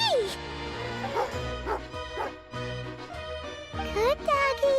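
Tugarin, a dog in the game Genshin Impact, barks and yips in short repeated bursts with whimpering tones while eating, layered over game music and jingling effects.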